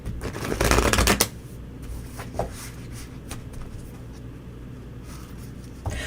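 Reading cards are shuffled in a quick, loud riffle of about a second, followed by quieter card handling and a few light taps.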